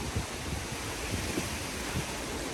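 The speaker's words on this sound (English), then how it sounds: "First really, really windy big storm." Strong wind from the first big storm of the rainy season in Vietnam roars steadily and broadband, gusting without pause close to the microphone, with no voices.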